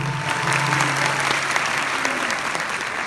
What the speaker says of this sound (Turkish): Alkışlarınızla en azından bunu hissedelim